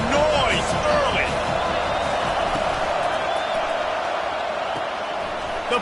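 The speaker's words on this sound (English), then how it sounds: "This crowd bringing the energy and noise early." A football stadium crowd in the College Football 25 video game roars steadily, a broad, continuous wash of cheering noise that holds throughout with a few faint whistles and sharp calls rising above it, and a commentator's voice over the top.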